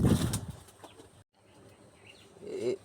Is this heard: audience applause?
no